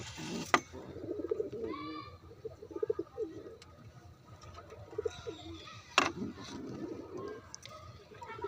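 Pet pigeons kept at home cooing in soft, repeated throaty bursts close by, with a couple of sharp knocks and light rustling between calls.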